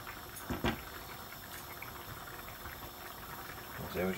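Fish curry simmering in a pot on the stove, a soft steady bubbling under faint kitchen hiss, close and quiet, with brief voice sounds near the end.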